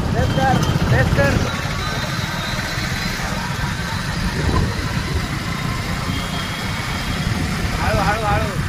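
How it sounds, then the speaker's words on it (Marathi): A car engine runs steadily and loudly throughout, holding a constant roar rather than clear rising revs, while people shout and talk over it. "रेस कमी नको बंद पडेल गाडी. कर रे रेस कर रेस कर."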